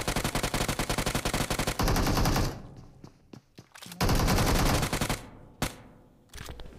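Rapid automatic fire from a UMP submachine gun in the BGMI battle royale game, with dense bursts, brief pauses, then further sustained volleys, loud and close.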